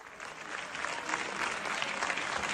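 Steady applause fills the French National Assembly chamber as a bill is voted through, a dense even clatter of many hands, moderately loud and continuous, with no clear voices over it.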